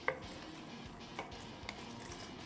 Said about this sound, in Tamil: இப்போது ஒரு முறை நல்லா மிக்ஸ் பண்ணிப்போம்